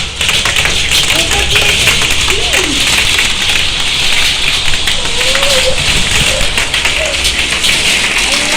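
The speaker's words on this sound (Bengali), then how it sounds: "তো লয়েন আপনাকে ওই বৃষ্টির শব্দটা শুনাই। আর দেখেন কি পরিমাণ শিল পড়ছে" Heavy rain mixed with hail pours down outside a house veranda as a steady, loud broadband hiss with scattered taps throughout, while a voice talks over it.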